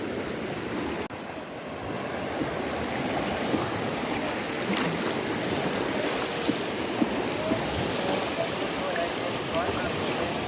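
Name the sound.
flooded river flowing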